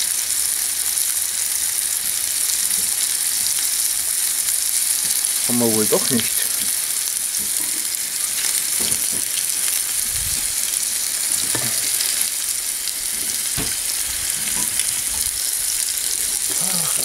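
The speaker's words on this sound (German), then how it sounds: "Und jetzt haben wir mal richtig sauber Fett in der Pfanne." Fat sizzles and spits loudly in a pan while a burger is being cooked, a constant hiss throughout with occasional scraping of a utensil and someone speaking German over it.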